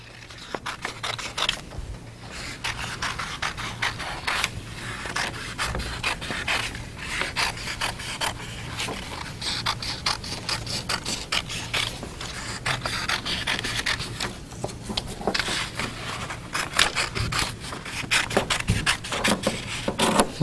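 Scissors snipping through paper to cut out a paper moon model, a steady stream of crisp cuts and rustling close up, continuous with no pauses and no talk.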